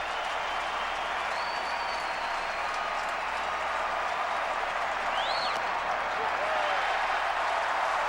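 A large crowd of over 41,000 fills a baseball stadium at a Yankees versus Twins game, a broad continuous roar heard from a distance with faint whistles rising above it.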